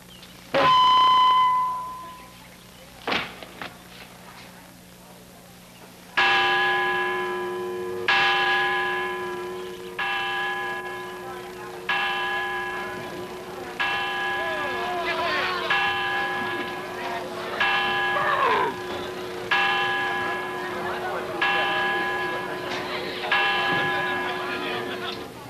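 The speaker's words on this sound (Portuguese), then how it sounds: "Acho que o sino está tocando para você, Coronel Huerta" A church bell tolls in a period drama, slow heavy strikes repeating roughly every two seconds with long ringing decay, loud and near, following a brief opening tone and a couple of scattered knocks.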